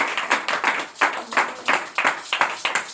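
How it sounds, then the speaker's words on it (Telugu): A congregation claps together in a steady rhythmic beat, sharp close hand claps repeating roughly twice a second, loud and even, with no talking over them. "చప్పట్లు కొడదాం."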